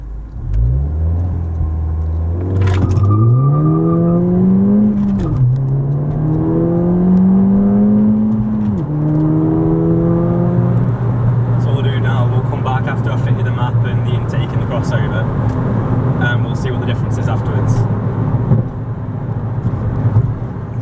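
A Ford Fiesta ST pulls from first gear off a slip road onto a dual carriageway, its engine rising in pitch through several gear changes, then settling into a loud steady cruising drone with road noise.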